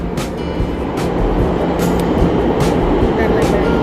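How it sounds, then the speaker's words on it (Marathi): A Pune metro train bound for Swargate arrives at a station, rumbling close by with a steady roar and regular clacking pulses, some voices faintly mixed in the background. "आमची मेट्रो आलेली आहे"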